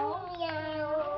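A voice imitates a cat's meow in one drawn-out, nasal mew.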